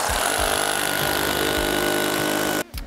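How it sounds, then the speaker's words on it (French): A power drill bores holes through rubber milking parlour mats, a loud steady whirring grind that runs without a break for over two seconds before stopping abruptly. "Donc on va commencer par percer les trous."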